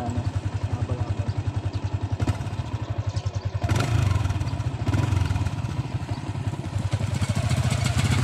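A motorcycle rides along a route toward a river swimming spot in Barbaza, Antique, its engine thrumming close and loud in a steady rapid pulse throughout, with occasional clattering bumps and no talking.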